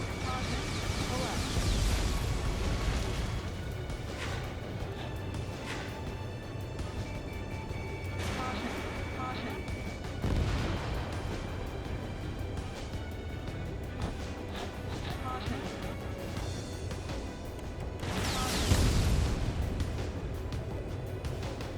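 Missile launches and explosions in Ace Combat 7: Skies Unknown, several booming bursts and whooshes spaced across a droning jet backdrop, with radio voices talking over it.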